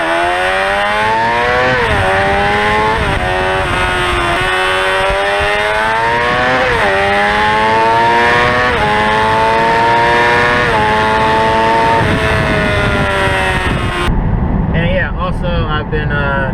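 Engine of a motorcycle being ridden on a nice day, rising and falling through repeated gear changes, steady and loud throughout, with the drone cutting out to quieter wind near the end.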